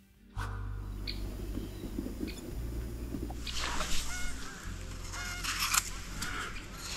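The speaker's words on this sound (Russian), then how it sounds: "Гуси там орут." Geese honk repeatedly in the distance over a low steady rumble, the calls growing busier and louder toward the end.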